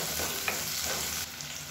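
Onions, garlic and chillies sauté in a pan with a soft, continuous sizzle, and a spoon scrapes and stirs through it in a couple of brief strokes. The sound is close but fairly quiet.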